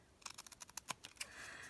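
Small scissors with glue-coated blades snip through card stock in a quick run of about a dozen crisp, close clicks, ending in a brief rasp.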